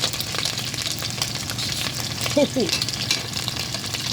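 Continuous sizzling and crackling of fish frying in hot oil, a steady hiss close up with faint background noise.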